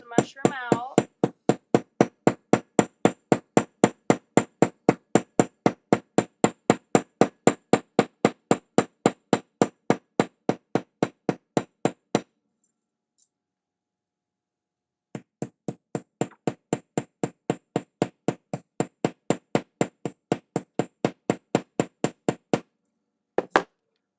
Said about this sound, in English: I'm going to hammer it down slowly to start so it starts to mushroom out